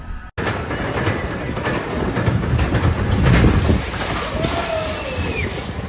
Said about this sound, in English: There's the famous caterpillar ride.